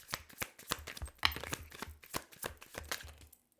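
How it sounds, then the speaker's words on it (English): A tarot card deck being shuffled by hand, with a run of quick riffling card snaps in uneven bursts, close and fairly quiet, with no voices. "I'm just going to shuffle and then redo it"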